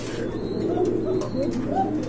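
Pigeons in a collection coo in a dense, continuous low chorus nearby, rolling calls overlapping with no break.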